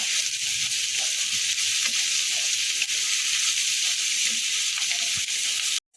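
Oil sizzling steadily in a pan while ingredients for dhaba-style Bengali egg tadka are lightly fried, a continuous close hiss with faint stirring clicks that cuts off abruptly at the very end.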